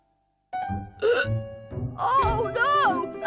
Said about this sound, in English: Oh, no! Now I've got hiccups too.